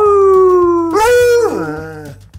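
A Treeing Walker Coonhound lets out a loud, close, drawn-out howl that bends upward, then breaks and slides down in pitch before trailing off.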